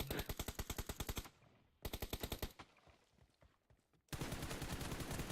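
Automatic gunfire in the mobile battle game PUBG Mobile, rapid loud bursts of shots with a brief quieter gap, then a long sustained burst to the end.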